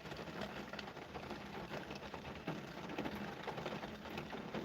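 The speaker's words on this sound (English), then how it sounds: "And it's raining here." Rain falling steadily outside a parked car, a dense, even hiss of drops on the roof and surroundings with no voices.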